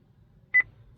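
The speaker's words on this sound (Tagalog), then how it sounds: "Ayun, nag-beep," A 2017 Chevrolet Trailblazer dashboard chimes once after an oil life reset, giving a short, clear electronic double beep in a quiet cabin.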